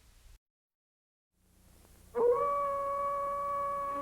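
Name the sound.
Malamute dog howling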